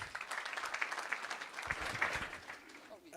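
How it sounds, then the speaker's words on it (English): Applause from a gathered crowd at a football-related unveiling event, fairly distant and modest in level, with scattered clapping swelling and fading over a few seconds. "So a round of applause, please"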